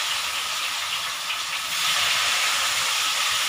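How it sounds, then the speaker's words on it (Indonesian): Tofu frying in hot cooking oil for crispy tofu, a steady loud sizzling hiss that swells stronger partway through and continues without pause, close and alone with no voices. "Goreng dulu sampai setengah matang."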